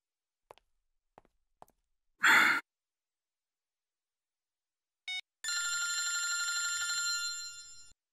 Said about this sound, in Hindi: तारिका जी का फोन।